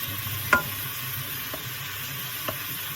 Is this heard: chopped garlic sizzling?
yes